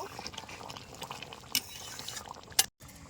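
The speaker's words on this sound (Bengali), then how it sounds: "এ দেখুন হয়ে আসছে প্রায় আমার ঝোলটা। এবার আমি ঢেলে নেব।" Curry gravy from a veg egg dish is poured out of the pan in a home kitchen, giving a soft, faint liquid splash and gurgle with a few sharp clinks near the end.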